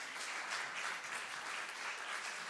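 Audience applause at a Shabbat service, a dense steady clapping that fills the whole stretch at moderate level with no talk over it.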